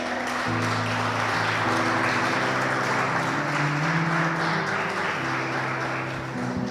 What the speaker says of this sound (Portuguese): Você pode dar um aplauso para o Senhor por isso?